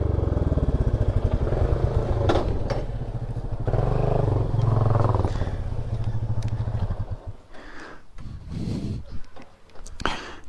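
A Royal Enfield motorcycle engine rumbles loudly and steadily for several seconds on a ride from Kathmandu toward Kakani and Nuwakot, then eases off and fades. A voice speaks briefly under the engine noise.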